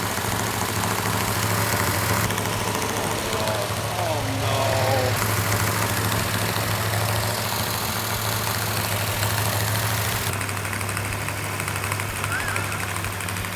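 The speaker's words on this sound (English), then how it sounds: "we have the engine running exactly the way it's supposed to" An engine running steadily at held-up RPM to break in a newly installed big camshaft, a continuous loud mechanical drone in a shop setting, with voices talking over it at times.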